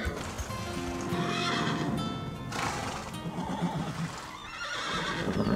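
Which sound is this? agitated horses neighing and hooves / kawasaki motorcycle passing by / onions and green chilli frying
agitated horses neighing and hooves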